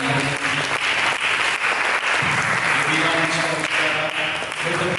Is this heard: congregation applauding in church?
yes